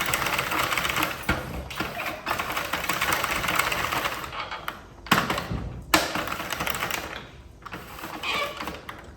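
Sentro knitting machine being cranked, giving a steady rapid mechanical clatter with a few brief pauses, close and fairly loud.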